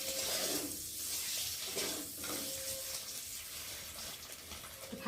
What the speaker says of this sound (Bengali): দেখো আমার ডিম এখন ভাজা হচ্ছে।